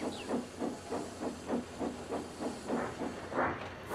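A steam locomotive sits hissing steam in a rhythmic series of soft chuffing bursts, about three per second, steady and moderately loud with continuous background hiss.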